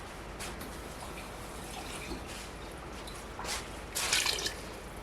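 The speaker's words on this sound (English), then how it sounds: "And put a little water in that." Water is poured into a cooking pan of homemade chicken broth for cream of chicken noodles: faint dripping and trickling that swells into a brief, louder splash of pouring near the end, with no talking.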